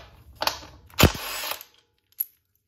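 A DeWalt power tool with a 14 mm socket backs out a motor mount bolt in a short, loud whirring burst, with a brief ratcheting rattle before it and a small clunk afterward.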